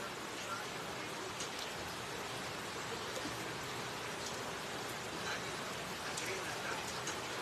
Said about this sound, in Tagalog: Ulan-ulan eh.